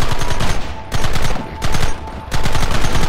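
Sustained bursts of rapid gunfire in a Red Dead Redemption shootout, loud and dense, broken by brief pauses roughly every second.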